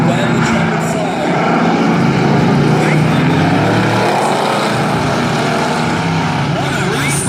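Eight-cylinder race cars roaring around a raceway during a heat race, a dense continuous engine drone with passing swells; an announcer talks over it.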